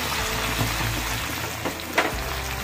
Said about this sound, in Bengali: 2 চামচ সাদা তেল আর অল্প বাটার। এবার কুচনো পেঁয়াজটাকে এর মধ্যে দিয়ে দেবো